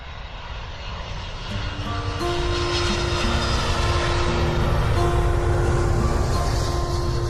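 A passenger airliner in flight on approach to Pattimura Airport in Ambon gives a steady, loud engine roar that swells slightly after the first couple of seconds. Tonal whines run through the cabin drone throughout.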